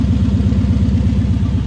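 A Nissan 240SX engine running steadily after a fuel pressure adjustment, a loud close rhythmic idle with an even pulsing throb.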